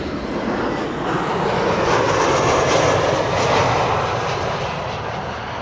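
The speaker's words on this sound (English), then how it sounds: "Transavia flight 5582 arriving from Nice, which is nice." A Transavia jet arriving from Nice lands at Amsterdam Schiphol with a close, steady engine roar that rises slightly and holds throughout, alone without speech.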